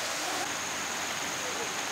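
Donat waterfall, a newly found waterfall reached by a steep stairway, rushes as a steady broadband roar of falling water, close and continuous with no clear voices.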